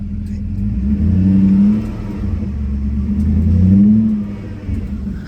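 A car engine being revved during a clutch slave cylinder repair, with two loud low rumbling swells, rising and falling, close and alone.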